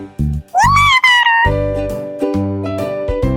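A cat lets out loud, drawn-out meows, the first rising and wavering, followed by steady tonal sounds in the background.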